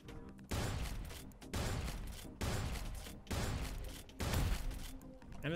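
Explosions in the space shooter Starward Rogue: Augmented: five heavy, broad booms land about a second apart, each sustained briefly before a short gap, loud and close.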